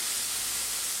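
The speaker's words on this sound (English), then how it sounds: "Sprinkle of salt." Salt sprinkled over raw meat being seasoned for a rendang, a soft, steady granular hiss lasting about a second with no talk.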